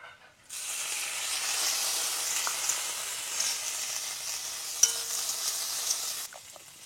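Garlic and prawns hit hot oil with pumpkin greens, a bright steady sizzle that starts abruptly, holds loud and close for about six seconds with a few stirring clicks, then drops away.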